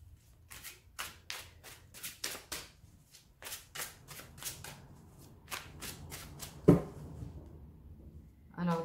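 A slightly worn Arcanum Tarot deck is riffled and shuffled by hand in a series of crisp, quick bursts with short gaps, close and fairly quiet, with a louder tap near the end.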